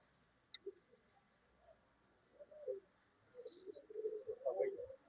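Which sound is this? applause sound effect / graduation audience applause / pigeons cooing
pigeons cooing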